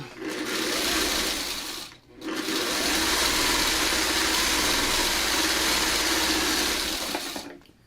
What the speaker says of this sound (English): we're going to sew it again. There, and now ease it all in.